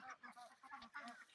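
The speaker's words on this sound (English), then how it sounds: "So that's a pekin." A Pekin duck gives a quick series of short, honking quacks, close and moderately loud, repeating rhythmically over about a second and a half.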